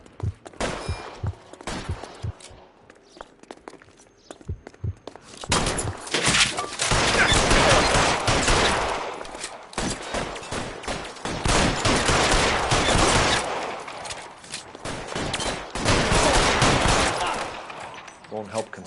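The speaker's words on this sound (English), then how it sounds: "Suppression fire." Sustained suppression fire during a police-versus-robbers shootout, with sparse single shots at first, then long dense volleys of rapid automatic gunfire that roll on loudly with brief pauses between bursts.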